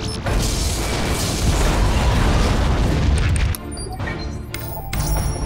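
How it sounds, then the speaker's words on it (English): A Romulan starship explodes in the Star Trek Legacy space combat game: a loud, sustained roar of blast and debris for about three seconds, followed by scattered smaller crashes and pops. "Romulan vessel destroyed"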